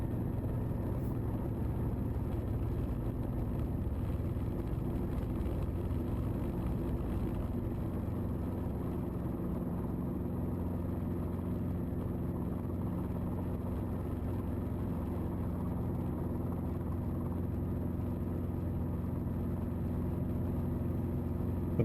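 Robinson R22 helicopter holding a hover during a training flight, a steady loud rotor and engine drone with a low throbbing rumble that stays constant throughout, no voices.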